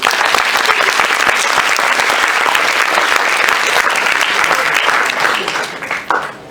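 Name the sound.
applause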